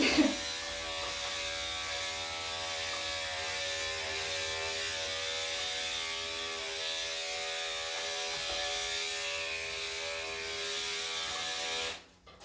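Electric clippers trim a dog's matted chest coat, a steady, close mechanical buzz running evenly for about twelve seconds before cutting off abruptly at the end.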